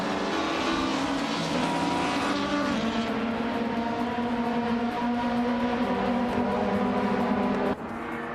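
Engines in a racing video game roar loudly and continuously as the pack of cars, including a 2011 Fiat Punto Abarth, launches off the start line, the pitch rising and shifting between gears.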